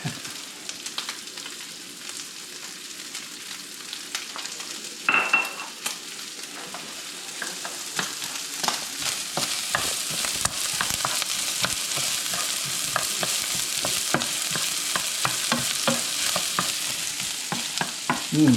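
Onions frying in rendered guanciale fat for amatriciana, a continuous close sizzle broken by frequent scraping and clicking stirs of a spoon against the pan, building slightly louder over time without any talking.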